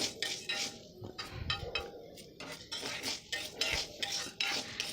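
Lentils and coconut roast in a pan while a spoon scrapes and clinks against the metal in quick, uneven strokes, close and moderately loud.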